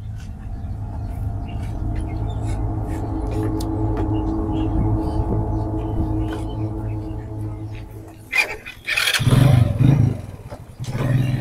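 A motorcycle rumbles steadily nearby while it is ridden, then roars louder with throttle bursts near the end, and sharp clicks and knocks sound over the engine noise.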